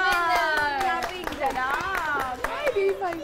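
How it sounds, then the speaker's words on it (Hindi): A studio audience on a Pakistani morning TV show claps for a game winner, with short, close claps scattered under lively talking and children's voices. "तालियां।"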